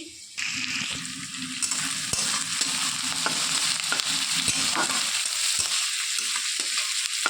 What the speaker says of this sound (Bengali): তার মধ্যে এখানে কেটে রাখা আদা রসুনের আর কোয়াগুলো আর কাঁচা লঙ্কাটাও দিয়ে দিয়েছি। দিয়ে ভালো ভেজে নেড়ে চেড়ে ভেজে নেব এটাকে।